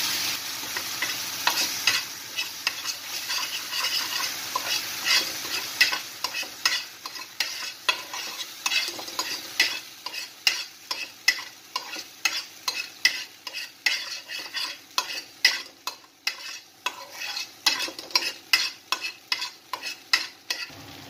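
Spice paste sizzles in hot oil with cinnamon and black cardamom in a pan for a brinjal dish, steady frying hiss broken by repeated scraping strokes of a spatula that grow more rhythmic and pronounced over time.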